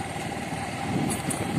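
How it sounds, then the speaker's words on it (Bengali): Motorcycle engine rumbling steadily while the bike is ridden along a road beside the Damodar river and farmland, a constant close drone with no speech. "কারণ এক হাতে আমি বাইকটা চালাচ্ছি"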